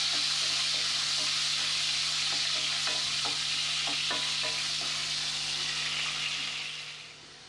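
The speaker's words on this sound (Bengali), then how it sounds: "এখানে আলুগুলো ভাজা হয়ে গেছে" Salted potatoes with turmeric fry in a pan with a steady, moderately loud sizzle, broken by a few soft clicks of stirring, before the sound fades away near the end.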